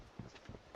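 Three soft, evenly spaced footsteps thud in the mobile battle royale game PUBG Mobile, fairly quiet against a low background hum, with no talking.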